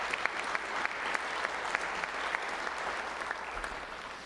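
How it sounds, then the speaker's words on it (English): Crowd at a high school football awards ceremony applauding a player, a sustained patter of many hands with a few sharper individual claps standing out, moderately distant. "So let's give him another round of applause."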